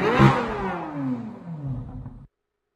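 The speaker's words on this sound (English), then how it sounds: "obviously that does not sound like a regular V8 that we heard from Chevy before" A Chevrolet Corvette Z06 V8 revs up hard and climbs with a sharp, racing-car rasp, then falls in a long descending sweep before cutting off abruptly, loud and close with no talking.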